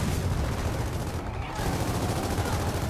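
Dense, continuous gunfire in Gears of War 4, a steady roar of rapid shots and impacts filling the whole stretch with only a brief dip in the middle, loud and close.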